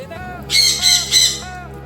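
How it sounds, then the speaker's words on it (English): A pet bird indoors in a kitchen where shrimp are being cleaned lets out three loud, harsh squawks close by, followed by a softer call, with a low background hum. "Don't mind my bird. He's upset,"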